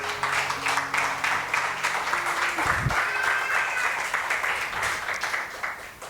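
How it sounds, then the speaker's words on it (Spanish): Congregation applauding during a Spanish-language church service, a dense, steady wash of many hands clapping together at close range for about six seconds, easing slightly toward the end. "Denle un aplauso al Señor."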